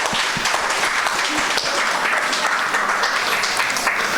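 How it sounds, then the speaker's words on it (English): Seminar audience applauding at a mental health event, a steady dense wash of clapping filling the room throughout, with no voices rising above it. "Round of applause."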